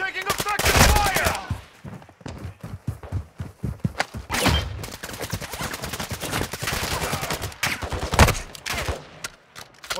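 Rapid bursts of automatic gunfire mixed with heavy thumps fill a Call of Duty Warzone DMZ firefight, with loud close volleys coming in repeated clusters over about ten seconds.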